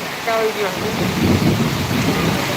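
Steady rain pours during a thunderstorm, with low rumbling thunder beneath it and a brief voice at the start.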